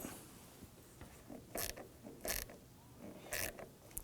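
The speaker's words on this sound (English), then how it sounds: "Let's go ahead and snug down our hose clamp." Hose clamp being snugged down on a coolant reservoir hose of a 2003-2014 Volvo XC90 3.2L inline-six, heard as a few short, bright ratcheting clicks in separate bursts, close and fairly quiet, with no talking.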